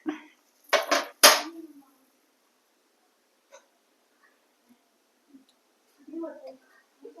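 A metal lid goes onto a cooking pot of tomatoes for drumstick sambar, giving two or three quick, bright clanks, then near silence broken by a few faint clicks and brief speech.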